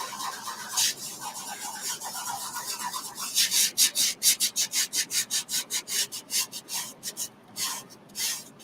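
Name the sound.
burnishing a Chalk Couture transfer onto a wooden sign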